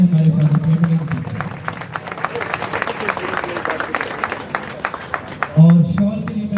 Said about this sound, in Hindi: हम जोरदार तालियां बजाएं हमारे फादर प्रेमानंद जी।